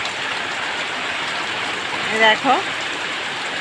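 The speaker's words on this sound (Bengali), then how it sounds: "আর বৃষ্টিটা মোটামুটি ভালোই জোরে হচ্ছে।" Heavy rain pours down outdoors in a continuous, even hiss, with a person briefly speaking near the end.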